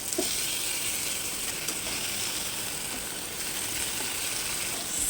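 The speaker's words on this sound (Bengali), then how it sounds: "উল্টিয়ে পাল্টিয়ে এগুলোকে আমি ব্রাউন কালার করে ভেজে নিয়েছি" Beef burger patties frying in oil in a covered pan, a loud continuous sizzle and hiss holding steady from start to finish, with no talking.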